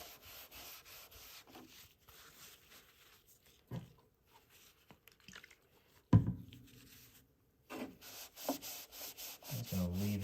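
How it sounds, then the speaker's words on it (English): A wet paper towel soaked in lacquer thinner rubbed along the hull seam of a 1:200 scale IJN battleship Yamato plastic model, giving soft, intermittent scratchy rubbing strokes with brief pauses and a few sharper scrapes, close and quiet. "Now I'm just gonna run this wet paper towel with the lacquer thinner right along the seam."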